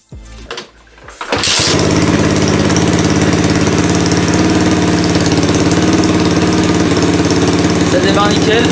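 A dirt bike engine starts with a short burst of cranking, then catches and settles into a loud, steady, close idle that holds without a break.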